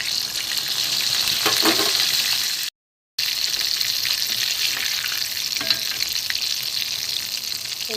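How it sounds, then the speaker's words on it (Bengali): Gulab jamun made from gobindobhog rice fry in hot oil, a close, steady bubbling sizzle with occasional spits, continuous apart from a brief gap. "সব কটা দিয়ে দিয়েছি, ভাজা হচ্ছে"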